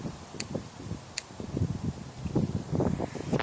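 Gusty wind buffets the microphone in uneven low rumbles, growing stronger toward the end, with faint rustling and a couple of brief clicks.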